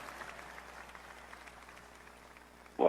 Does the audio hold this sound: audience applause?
yes